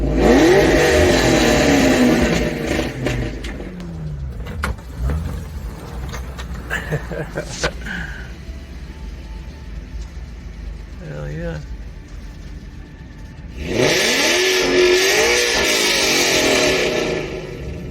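A loud car engine revs hard about 100 feet away, roaring in bursts with a brief lull, while a voice speaks over it.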